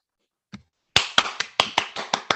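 After a single soft tap, a lone pair of hands claps about eight times in a quick, slightly uneven rhythm, crisp and close in an otherwise quiet room.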